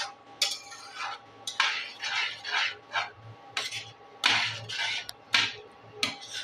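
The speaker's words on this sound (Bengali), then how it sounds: "বারবার আমি এরকম করে নাড়তে থাকবো, তাহলে টমেটো সসটা নিচে লেগেও যাবে না" Tomato sauce being stirred in a pan, a spoon scraping and clinking against the metal in repeated strokes every second or so, close and fairly quiet with a low steady hum beneath.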